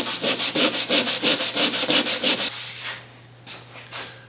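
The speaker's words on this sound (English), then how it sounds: "This piece is so small, I'm okay doing it with a piece of sandpaper." Sandpaper rubbed by hand over a small oak part of an antique pedestal table, about a dozen quick, even back-and-forth strokes, close and loud, then a pause with a few softer scrapes.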